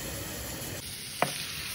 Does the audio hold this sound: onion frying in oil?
yes